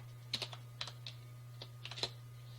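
Scattered keystrokes on a computer keyboard, a few quick clicks in small bursts over a steady low electrical hum, quiet and close with no talking.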